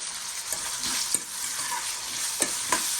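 A cashew gravy mixture is stirred and roasted over a medium flame in a pan, giving a continuous close sizzle broken by several sharp scrapes and clacks of the spoon.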